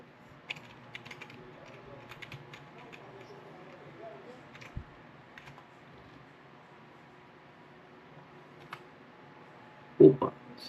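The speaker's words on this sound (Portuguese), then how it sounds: "E depois digitar o e-mail, avançar." An email address is typed on a computer keyboard during a Windows 11 setup, heard as soft, scattered key clicks under quiet talk, ending with a louder tap.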